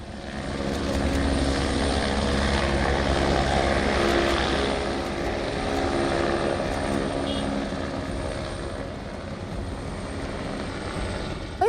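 A rescue helicopter drones steadily overhead, its rotor thrum loud and continuous throughout, with no voices, during flooding in Bagaha, Bihar.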